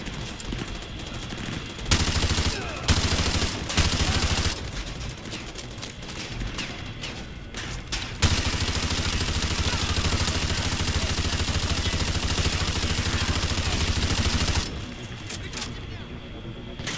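Sustained automatic gunfire from Call of Duty Modern Warfare 2 Campaign Remastered, dense bursts rattling continuously at close range, with brief pauses near the start and end and a voice speaking underneath.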